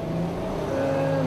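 A 2014 Bentley Flying Spur with a twin-turbo V12 pulls away from a standstill on a test track, its engine note rising into a steady, moderately loud roar that carries on without a break.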